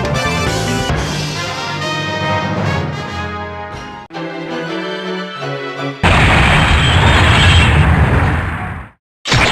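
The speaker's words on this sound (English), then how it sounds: "Grenade! Super grenade!" Super grenade blasts from the arcade game Metal Slug 6 boom loudly amid dense, layered game audio, with a final large burst near the end before a brief cutout.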